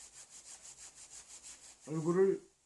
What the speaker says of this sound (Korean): 그 다음에 두 손을 열이 나게 이렇게 비벼가지고